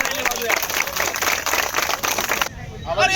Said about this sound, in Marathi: एकदा त्यांच्यासाठी टाळ्या